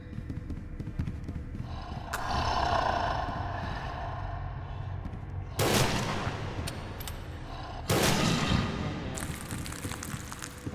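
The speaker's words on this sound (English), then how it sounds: "it's two shots from the musket" Musket shots in the video game Lamentum, two loud, sharp blasts a couple of seconds apart, each followed by a brief decaying rumble over a low, dark ambient drone.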